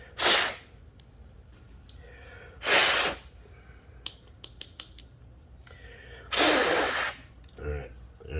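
Three sharp hissing blasts of compressed air from an air compressor nozzle blowing out ceramic bearings, each about half a second long and close, with a few small clicks and handling noises between them.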